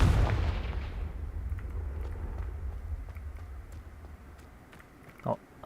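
A Confringo fire spell bursts in Hogwarts Legacy, set in an 1890s Hogwarts, with a loud blast at the start that fades into a long rumbling tail, followed by a brief thud near the end.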